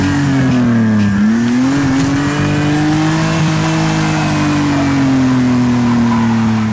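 Lamborghini replica car driving on an ice track, its engine droning loud and close with a steady pitch that dips and climbs as it shifts and accelerates.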